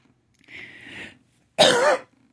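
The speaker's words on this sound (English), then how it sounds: "I'm so tired of coughing for you guys every time I make a video" Two coughs from a woman, a softer throaty one followed by a sharper, louder burst, close and with no talking.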